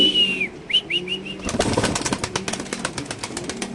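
A male Lahori pigeon coos in a short series of rising, rolling calls close by, then wings flap and rustle noisily in a cage with rapid repeated flutters; no talk is heard.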